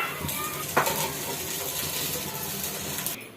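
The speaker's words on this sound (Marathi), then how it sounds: "ह्याच्यावर थोडं तेल सोडून घेऊया बंद करून घेऊया ह्याला मंद आचेवर खरपूस असं भाजून घ्यायचं" Corn amboli roasts in oil in a pan over a low flame. A steady, soft sizzle runs throughout, broken by a brief scrape or clink near the start.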